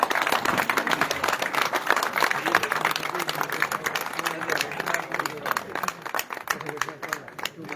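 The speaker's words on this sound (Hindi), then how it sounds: "जोरदार तालियों से स्वागत करें" Crowd at a Thakur gathering in Rajound applauding to welcome a speaker to the stage, a dense, steady wash of many hands clapping that fills the whole stretch, with voices and shouts mixed underneath.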